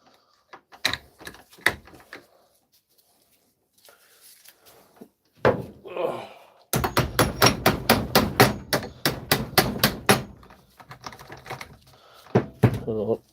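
Hammer battering a stuck part off a DeWalt or Milwaukee power tool held in a vise: a few scattered knocks, then a rapid run of about a dozen sharp, loud metallic blows, with a voice talking between them.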